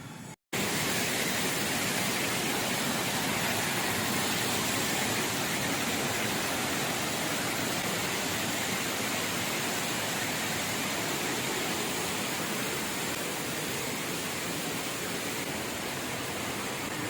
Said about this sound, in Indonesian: air terjun Bantimurung di Taman Nasional Bantimurung